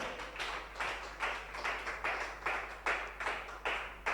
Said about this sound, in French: Applaudis-le vraiment pour ce qu'il fait pour toi.